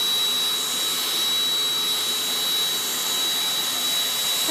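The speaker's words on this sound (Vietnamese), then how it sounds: "Nào bật máy lên hút bụi cho mẹ nào." A household vacuum cleaner running steadily, a loud constant whooshing roar with a thin high whine, close and unbroken.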